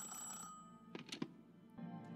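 Telephone ringing in the political strategy game Suzerain while a call connects: a couple of short electronic ring bursts over a soft background tone, with a brief pause between.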